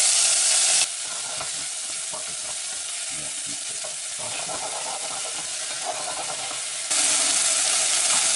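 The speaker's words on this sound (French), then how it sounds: "et une goutte d'ail entière, comme ça." Onions and a whole garlic clove sizzle and crackle in hot oil, with stirring scrapes and bursts of louder hissing at the start and end; no voices.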